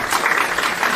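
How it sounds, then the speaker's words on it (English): Audience applause at an interfaith dialogue event welcoming Cardinal Michael Fitzgerald, a steady dense wash of clapping hands throughout, loud and close with no pauses. "Please give a nice round of applause"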